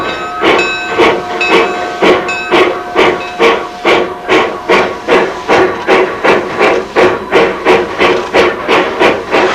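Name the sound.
steam locomotive hissing as steam is fed into cylinders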